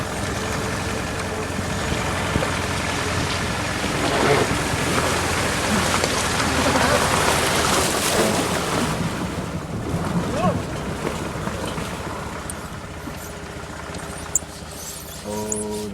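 A tractor churns through a river crossing on the Mongol Rally, giving steady rushing, sloshing water noise with wind buffeting the microphone throughout, loud and continuous.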